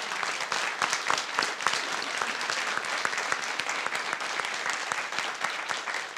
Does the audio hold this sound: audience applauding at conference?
yes